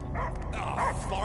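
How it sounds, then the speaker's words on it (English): Barking from a dog in Marvel's Guardians of the Galaxy video game, a few quick yips over dense game music and ambience. "I hear only barking."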